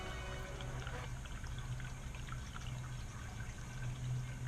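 Water from an Aquarock fountain kit with a blue stone model splashes and trickles steadily over the rocks. The pouring, burbling flow is faint and continuous, with no voices.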